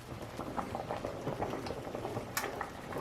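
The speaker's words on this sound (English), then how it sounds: "my potatoes are bubbling away" Potatoes boil steadily in a pot on the stove, a dense bubbling and popping patter that holds at a moderate level for the whole stretch, with a few sharper pops near the end and no talk.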